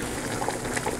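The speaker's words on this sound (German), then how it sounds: "Und jetzt wollen wir das da rausdrucken und hier rein dippen im Wasser" Spätzle dough pressed into a pot of boiling water makes a soft, short bubbling and gurgling, quiet and close, with no voices.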